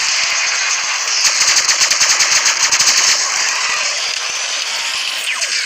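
Rapid automatic gunfire from the video game Shadowgun Legends: a loud, fast, rattling burst of shots over a constant game hum, then the hum carries on after the firing stops.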